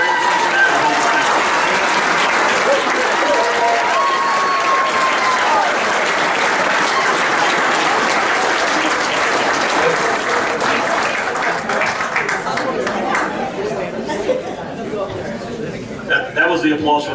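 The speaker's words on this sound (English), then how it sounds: "That was the applause for the microphone working." A banquet crowd at a softball Hall of Fame dinner gives sustained applause welcoming the 2020 inductee class, loud and steady throughout, thinning slightly toward the end with scattered claps and a few chuckles.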